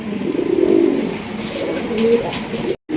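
Pigeons coo close by in a few soft, throaty, rolling phrases, with a short silent break near the end.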